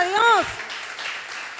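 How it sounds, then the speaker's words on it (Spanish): Applause from a church congregation at an anniversary service breaks out right after a brief voice, a dense, steady wash of clapping that carries on alone to the end. "dale un fuerte aplauso a Dios"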